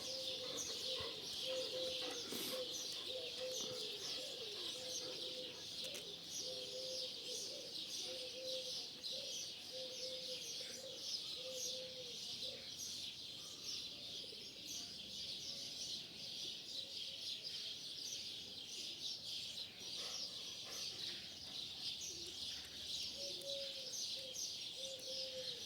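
Starlings singing outdoors, a busy overlapping stream of chirps, whistles and trills carrying on throughout at moderate distance, with soft background hum and no talking.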